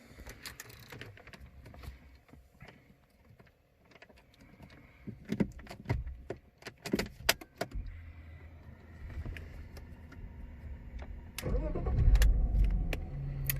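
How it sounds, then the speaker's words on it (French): A BMW E46 car engine cranks and starts after a scatter of clicks and small handling noises, settling into a low idle toward the end. "la voiture est démarrée, tout simplement"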